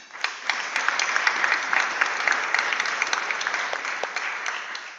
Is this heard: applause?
yes